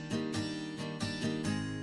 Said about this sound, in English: I have an acoustic guitar doing strums as well on the right.